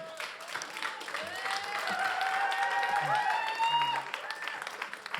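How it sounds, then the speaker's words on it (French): An audience applauds at a local television awards ceremony, a moderate swell of clapping that builds and holds, with bright whistle-like tones and scattered voices riding over it. "Vous pouvez l'applaudir."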